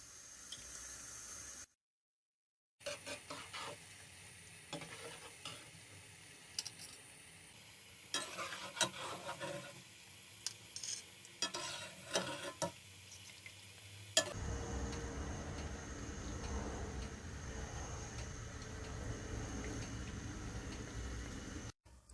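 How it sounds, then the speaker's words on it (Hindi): Afghani khajoor, sweet atta date cookies, deep frying in hot oil, with a steady bubbling sizzle and intermittent stirring and clinks of a slotted spoon, a short silent gap early on, then a louder, continuous fry. "जैसे जैसे ये फ्राई होती जा रही हैं"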